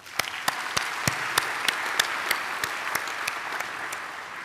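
Steady audience applause for science graduates at a university graduation ceremony in Gqeberha, a continuous dense wash of hands with a few sharp, evenly spaced louder claps punctuating it, heard alone.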